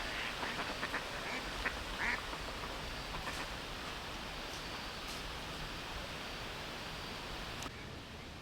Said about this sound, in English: this female Gadwall showed up because that's another new one for the year